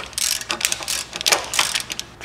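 A socket wrench ratchets as it breaks loose penetrant-soaked cylinder head bolts on a 1.8L Audi/VW engine, giving close, loud bursts of rapid metallic clicking in several quick pulls.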